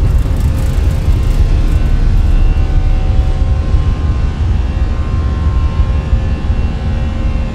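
An Airbus A320 takes off in Microsoft Flight Simulator 2024, giving a loud, steady engine roar with a deep rumble that holds unbroken throughout and no voices.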